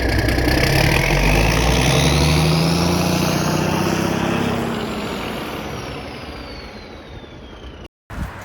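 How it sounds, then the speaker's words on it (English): A 1972 Massey Ferguson 1100 tractor with a 94 horsepower engine runs loud and close with a rumbling diesel note, then gradually fades and quiets, ending in a brief dropout and a faint return. "This is a 1972 Massey Ferguson 1100, 94 horsepower."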